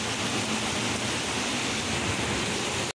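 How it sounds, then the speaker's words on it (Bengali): Heavy rain in a storm with gusting wind, a dense, steady roar of falling water that fills the whole stretch, broken briefly by a loud knock near the end. "প্রচণ্ড মেঘ, প্রচণ্ড বৃষ্টি নেমেছে"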